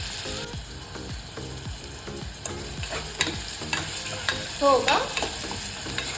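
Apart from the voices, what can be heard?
chopped onions frying and being stirred in a pan for dal khichdi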